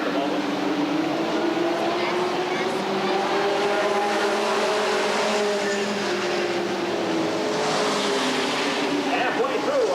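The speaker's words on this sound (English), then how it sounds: "Halfway through our scheduled 50-lap main, and now Olsen on the inside of Graham." Street stock race cars roaring around Redwood Acres Raceway during a 50-lap main event, a loud continuous engine drone that swells and fades as cars pass, with an announcer calling the race over it.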